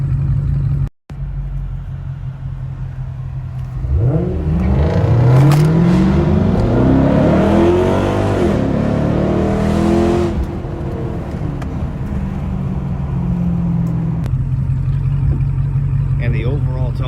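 A Dodge SRT8 V8 engine revs from idle up to high RPM, the exhaust rising into a loud scream before settling back to a rumbling idle, close and steady, with a brief cut near the start.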